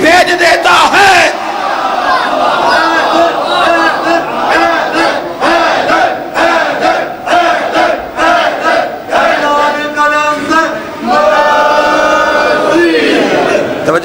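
A large crowd loudly shouts a religious slogan in repeated rhythmic bursts, voices roaring together with some louder individual calls rising above the mass.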